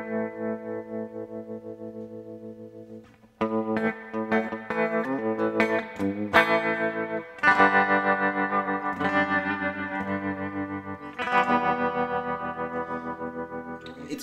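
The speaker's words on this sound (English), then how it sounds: "It's got a really cool pulse to it, very Fender-like if you're into the classic sort of Fender-style tremolo sounds." Electric guitar chords through a Fender-style tremolo pedal, sustained notes pulsing rhythmically in volume, with strummed chord changes ringing out loud and close across several phrases.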